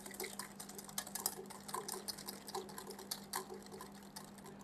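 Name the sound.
mixing egg yolks and sugar with a wire whisk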